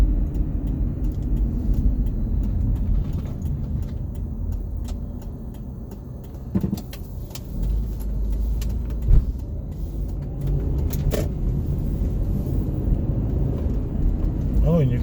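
A car cruises on the Palisades Interstate Parkway after new struts and shocks were fitted, giving a steady low road rumble and engine drone from inside the cabin, with a few soft knocks and clicks over it.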